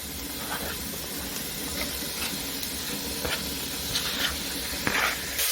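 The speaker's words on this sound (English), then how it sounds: "Now I've put 3 tablespoons of oil, and to that I'm adding my onions, the carrots, and garlic grated." Onions, carrots and grated garlic sizzling in three tablespoons of hot oil, a steady close hiss with brief crackles and pops running throughout.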